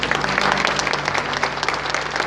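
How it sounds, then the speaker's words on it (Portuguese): Church congregation clapping during an evening worship service, a short burst of dense, lively applause from many hands, steady and close throughout. "Será que você pode aplaudir?"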